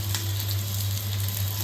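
Chopped green chillies sizzle in hot oil for a rasam tempering, a steady close frying hiss over a constant low kitchen hum, with no voices.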